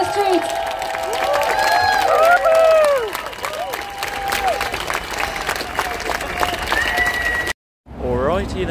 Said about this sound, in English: please give a big round of applause to all the speakers and to each other